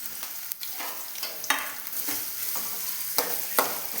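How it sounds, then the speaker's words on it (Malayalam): Chopped ginger fries in hot oil for a Kerala ginger curry, a close, steady sizzle punctuated by several sharp spoon taps and stirring clicks against the pan. "ഇനി ഈ എണ്ണ ഒഴിച്ചൊന്ന് ചൂടാവുമ്പോൾ നമുക്ക് ഈ ഇഞ്ചി ഒന്ന് മൂപ്പിച്ചെടുക്കാം"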